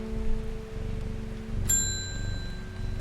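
A shop doorbell in the game Strange Horticulture rings once with a bright, sustained chime partway through, over a low steady musical background.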